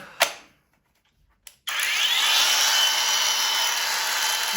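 A Procraft PKA46 cordless mini chainsaw on a Makita-style battery mount gives a short click and a brief pause, then whirs up to a loud, steady, high-pitched electric motor whine that runs on without talk.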